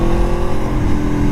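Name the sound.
2017 Aprilia Tuono Factory motorcycle auto-blip downshift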